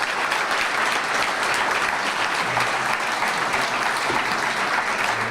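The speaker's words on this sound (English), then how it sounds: "let's give them a big round of applause." An audience at a college presidents' breakfast applauds, giving dense, sustained clapping from a large crowd that holds steady and loud throughout.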